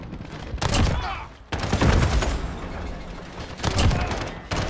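Akimbo Snakeshot pistols in a shooter game fire hip-shot volleys, several loud, close bursts of rapid blasts separated by brief pauses.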